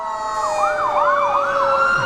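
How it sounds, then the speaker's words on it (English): A loud wailing police siren sweeps up and down repeatedly, close by, over a steady tonal drone. "We got sirens, cops."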